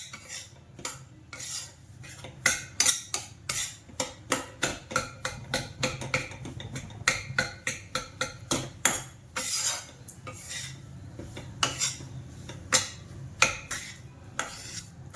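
Ragi flour roasting in ghee in a pan, stirred with a spoon. Repeated close scraping and clinking strokes keep a quick, uneven rhythm over a low sizzle, with no talking.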